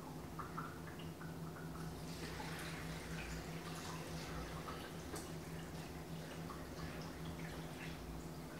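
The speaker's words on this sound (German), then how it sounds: "Und dazu kommt jetzt so ungefähr 2 Liter Wasser" About two litres of water pour steadily over sorrel in a cooking pot, a quiet continuous splashing and trickling with no talk.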